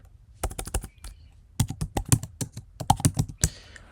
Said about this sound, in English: If we type Jackson bind